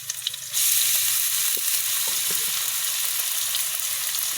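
Garlic and onion frying in a hot pan, a loud hissing sizzle that surges in abruptly after a brief quiet moment and then holds steady, with faint utensil taps and no talking.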